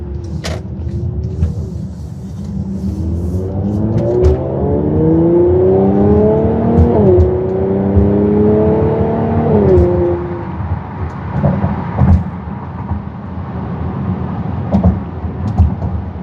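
A 2018 Mercedes-Benz GLC 43 AMG engine revs repeatedly, its rising and falling engine note climbing in several blips before settling back to a steady idle, heard close with no talking.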